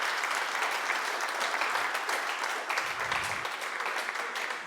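A church congregation applauds in praise, a steady, full wash of clapping from many hands that carries on evenly from start to finish without talk.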